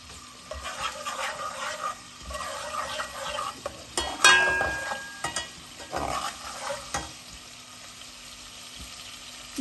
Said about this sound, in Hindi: और ये 1 टीस्पून लहसुन अदरक का पेस्ट है, इसको मैं भूनने दूँगी।